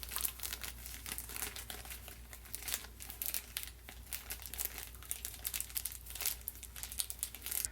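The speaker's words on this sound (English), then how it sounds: "Let me take these stickers off" Stickers being peeled off a plastic bottle, giving continuous close crinkling and crackling with small tearing bursts throughout, no voices.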